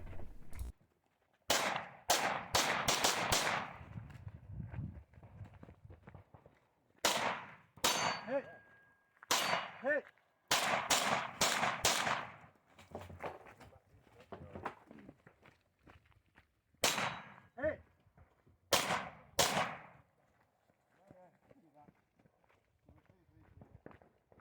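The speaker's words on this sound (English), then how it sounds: "Start out with some shotgun, go run up to some pistol that a few kind of hidden steel targets on the way, and then you finish up with rifle here at the end" A shooting-stage run at steel targets with shotgun, then pistol, then rifle: clusters of sharp, loud shots and metallic clangs come in quick bursts, separated by footsteps and quieter gaps.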